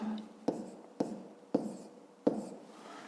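A pen writing a distance figure into a fifth-grade maths exercise gives four short, sharp scratching taps, evenly spaced and close by, over a quiet room.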